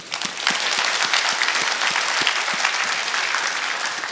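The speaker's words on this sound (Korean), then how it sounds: "오늘 박수 한번 치죠." A church congregation breaks into sustained applause, loud and even throughout, with a few distinct sharper claps standing out in the crowd.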